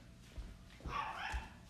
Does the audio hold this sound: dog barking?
yes